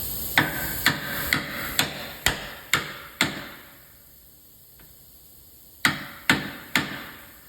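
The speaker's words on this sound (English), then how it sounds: "Then I just tap on the bottom of the vice grip." A hammer taps the bottom of a vice grip during a lower control arm ball joint replacement on a 2010-2013 Kia Soul: seven sharp, evenly spaced metallic knocks, a pause, then four more, close and clear.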